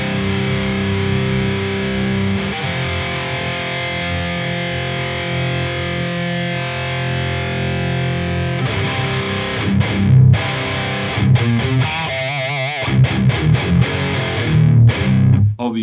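Heavy distorted metal electric guitar through a speaker cabinet, miked with an SM57 dynamic blended with a Royer 121 ribbon, plays sustained chugging riffs and chords, loud and close, with choppy palm-muted stops toward the end.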